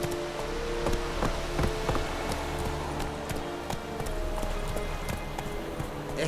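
A horse gallops in The Witcher 3: Wild Hunt, its hooves beating in a quick, steady clip-clop rhythm close up over a low rumble of ambient game sound, with no voices heard.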